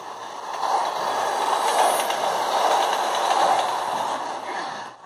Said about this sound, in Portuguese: Quase ia ser atropelado pelo trem.